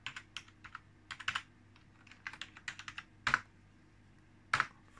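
Password being typed on a computer keyboard: a quick run of light clicking keystrokes in short bursts, with a few louder heavier key presses standing out, close and quiet in a still room.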